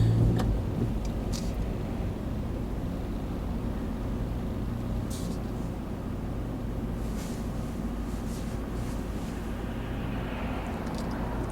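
A car with a loud modified exhaust drones steadily at close range as a low rumbling engine hum, holding level throughout with a few faint ticks and clicks on top.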